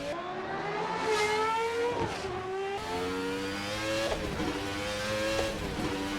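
Formula RSS 1990 V10 race car in Assetto Corsa pulling out of the pits at Imola's 1988 layout, its high-pitched engine rising and falling through gear changes, loud and steady with no voices.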